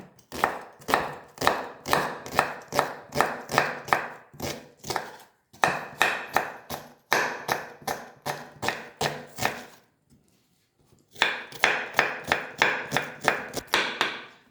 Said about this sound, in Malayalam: ആദ്യം തന്നെ 2 വലിയ സവോള നീളത്തിൽ അരിയുക. കനം കുറച്ച് അരിയുക, നല്ലതുപോലെ കനം കുറച്ച് അരിയണം.